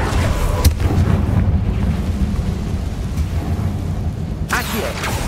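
A Confringo fire spell explodes in a catacomb in the Hogwarts Legacy video game. Dense, rumbling blast noise fills the whole stretch, with a sharp burst near the start and another near the end.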